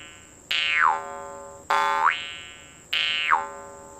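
Three separate twangs from a jaw harp, each a bright metallic boing whose pitch sweeps down and back as the tongue moves from the top to the bottom of the mouth, with short gaps between them.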